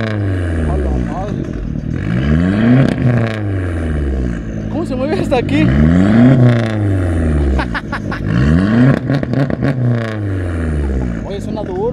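A loud Dodge Stratus engine revs up and down repeatedly at a car meet, rising and falling in pitch, with a voice speaking briefly over it.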